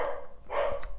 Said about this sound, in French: désolée pour le chien, elle garde la maison